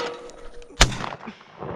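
A Winchester 101 XTR shotgun fires once at skeet outdoors, one loud sharp blast with a short decaying tail, no talking.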